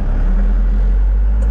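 A D20 truck pulling away in first gear, its engine a loud, deep, steady rumble right up close, holding a dense low drone throughout.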